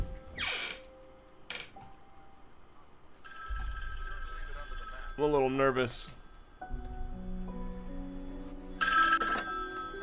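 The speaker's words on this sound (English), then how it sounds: "Answer the phone." A telephone rings in a fan-made Halloween horror video game. Electronic bell-like ring bursts repeat across the passage among other game tones and effects, and a person speaks briefly over them.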